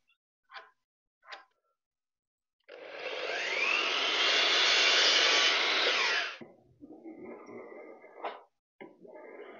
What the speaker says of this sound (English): Just taking the rough edges off because this is just rough cut timber